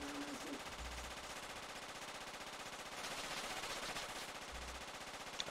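Sustained machine gun fire in the video game Project Reality, a continuous rapid burst of shots that runs through the whole stretch at steady loudness, with no talk over it.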